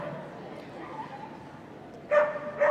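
A border collie at an agility show gives two short, sharp barks near the end, rising above a steady arena murmur and commentary.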